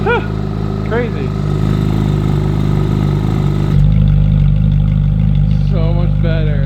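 Ferrari 458 engine with a Forza Componenti exhaust and no mufflers, droning loudly at steady revs and then shifting to a deeper, heavier tone partway through; voices talk and react over the engine throughout.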